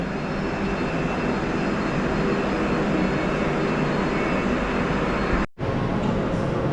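Polregio EN61 001 papal train rolling through Kraków Główny station, a steady, loud, broad rumble and rush of the passing unit that holds throughout, broken by one brief drop to silence near the end.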